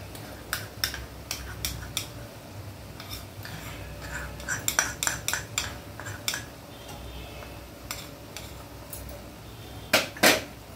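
Red spinach with shrimp being stirred in a pan, giving a scatter of light metallic clinks and scrapes from a utensil, spread irregularly through the stretch with a sharper cluster near the end, no voices.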